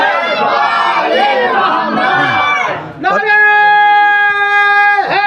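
A crowd at a majlis chants salawat and slogans in loud unison, a rough massed roar of voices followed by a sustained, held collective chant.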